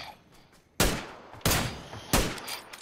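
Three sharp, loud gunshots from PUBG played on PS5 crack out at a steady, spaced interval. Each blast is followed by a brief decaying echo over a faint background.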